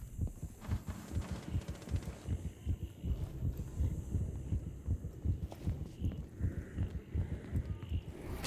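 Throbbing heartbeat effect from an adrenaline rush in Rainbow Six Siege, a steady low pulse of thumping beats running the whole time under a dense layer of game noise.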